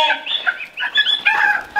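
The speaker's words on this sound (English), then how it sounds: "Here's the turkeys." Turkeys on a homestead give a quick run of high clucking and yelping calls, close and fairly loud, several short notes in rapid, uneven succession.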